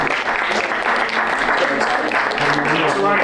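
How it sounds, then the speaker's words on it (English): A crowd at an evening peace symposium claps loudly and steadily for the organisers, a dense continuous applause that fills the whole moment. "can we give a big round of applause for the organisation?"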